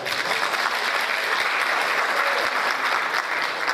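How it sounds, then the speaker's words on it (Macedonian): An audience at a Macedonian folklore festival of songs, music and dances in Probištip claps loudly and steadily, a dense, even wash of applause that holds at full strength throughout with no speech. "Може аплауз"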